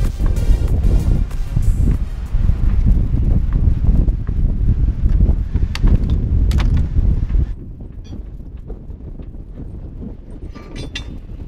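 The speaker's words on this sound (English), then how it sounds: "Wind is picking up." Strong wind gusts roar and buffet a microphone on a sailing boat during Cyclone Freddy, loud and continuous for about seven seconds before dropping to a lower steady rush of wind.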